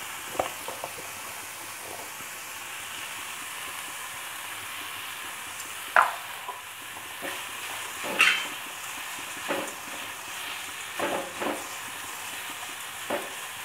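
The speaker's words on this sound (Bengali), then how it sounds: "এটাকে একটু হালকা আমি সতে করে নিলাম।" Paneer roll filling, salted, is lightly sautéed and stirred in a pan with a soft, steady sizzle and occasional scraping clinks of the spatula, heard alone.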